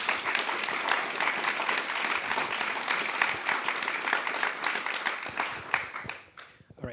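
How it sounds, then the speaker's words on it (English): A town hall audience at a bipartisan forum on Wisconsin election security gives the panelists a sustained round of applause that tapers off toward the close. "let's give them a round of applause for all of their service"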